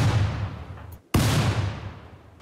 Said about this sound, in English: there's another flash grenade, which is gonna stun Slate